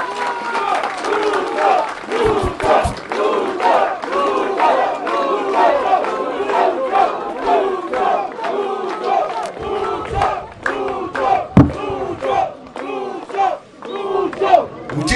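A large outdoor crowd in Tarija, Bolivia, greets President Luis Arce at a housing handover ceremony with loud, sustained chanting and cheering, voices rising and falling in rhythmic shouts with a few claps.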